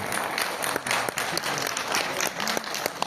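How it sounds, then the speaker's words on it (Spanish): Audience applause at a public accountants' association event in Puno, many hands clapping in a dense, continuous patter with a few sharper individual claps, moderately loud throughout. "Fuerte los aplausos también para nosotros"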